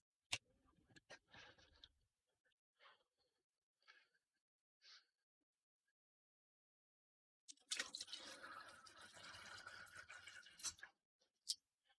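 Faint small clinks and taps come first, then water is poured steadily for a few seconds to make coffee, ending with a light knock. The sound is quiet and close, and no one speaks.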